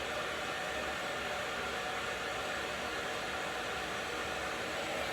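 A hair dryer blows hot air while long hair is styled for maximum volume, producing a steady, close, loud whooshing hiss with no pauses.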